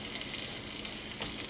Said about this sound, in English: throwing a potato on and seeing if it sizzles